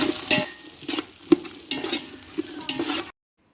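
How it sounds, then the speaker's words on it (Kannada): Sliced onions and cardamom fry in a pan for biryani, a soft sizzle broken by several sharp scraping and clinking stirs of a utensil against the metal, close by and ending in sudden silence. "ಇದಕ್ಕೆ ಒಂದು ಹಚ್ಚಿಟ್ಟ ನಾಲ್ಕು ಈರುಳ್ಳಿನ ಹಾಕ್ತೇನೆ ಚೆನ್ನಾಗಿ ಉರಿತೇನೆ ನಾನು"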